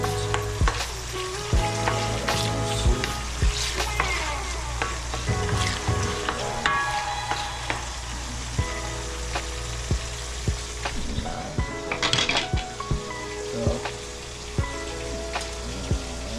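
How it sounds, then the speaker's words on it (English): Onion, green scallion, tomato and scotch bonnet pepper sizzle and fry steadily in a pan for ackee and saltfish, with a continuous crackle and occasional sharper pops and clinks of cookware close by. "this is my onion, green scallion, tomato, scotch bonnet pepper guys. So I'm gonna let this cook for a little bit"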